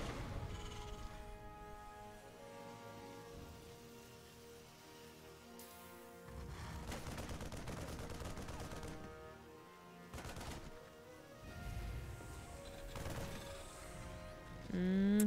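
A single Marine fires at a Zerg Overlord in StarCraft II, giving short rapid bursts of gunfire that come and go. The shots sound faint and sit beneath steady background music.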